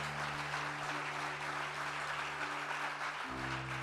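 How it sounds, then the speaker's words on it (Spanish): A church congregation applauds during a sermon, a continuous spread of clapping at moderate level over a sustained low organ or keyboard chord that shifts pitch near the end. "Bríndale un fuerte aplauso al Señor por eso"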